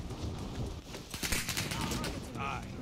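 Rapid bursts of gunfire from a Light Conductor STEN submachine gun in Warzone crackle through the middle of the clip, a dense rattle of close shots followed by a brief tonal game sound, with a player talking over parts of it.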